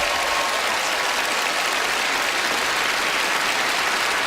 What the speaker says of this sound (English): A warm round of applause will follow you up here.